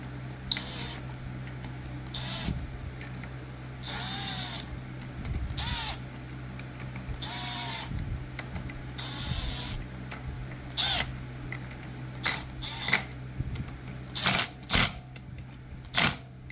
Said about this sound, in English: This little impact gun doesn't have a whole lot of torque